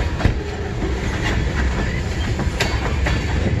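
A westbound train rolls past at Emmett, Michigan, a steady close rumble with rhythmic clickety-clack of wheels over rail joints throughout, no voices.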